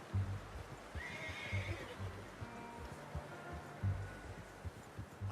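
A horse in the Red Dead Redemption 2 video game neighs in a rising whinny near the middle, with clip-clopping hooves and low ambient rumble throughout.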